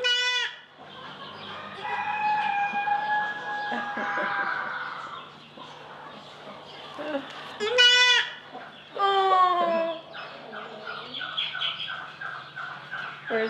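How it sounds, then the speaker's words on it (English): Baby goats at a ranch feed and tack store give several high wavering bleats, some short and some drawn out, spread across the stretch amid other farm animal calls, near and moderately loud. "Is that a boy goat or a girl baby goat?"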